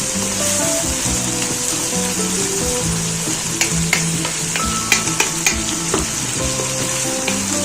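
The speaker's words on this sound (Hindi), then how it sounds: "हल्का सा हमें सौते करना है" Onions sautéing in a pan for an onion and tomato chutney, a continuous close sizzle with a few clinks of stirring.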